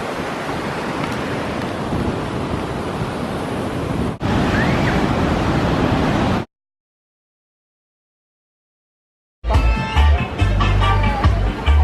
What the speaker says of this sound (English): The biggest wave, called Salsa Brava, should be on this beach, I guess.